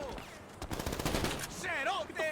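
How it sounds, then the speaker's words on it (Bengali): Gunfire from the GTA 5 video game: dense, rapid bursts of shots rattle close and loud, followed by whistling, warbling game tones over the last second. "মরার পরেও গুলি চালাচ্ছে।"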